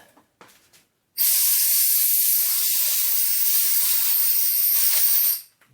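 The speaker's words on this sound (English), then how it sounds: "I'm gonna blow some compressed air at it." Compressed air blasts onto a 3D-printed heatsink for a Sur Ron BAC2000 controller in one loud, steady hiss of about four seconds, after a few faint taps and handling noises.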